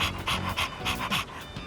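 A dog pants quickly and rhythmically in the video game Persona 3 Reload, roughly ten short breathy huffs in an even beat, close and clear, with no speech.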